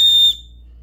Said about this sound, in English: on the end of the paratinder cord, there's a 120 decibel whistle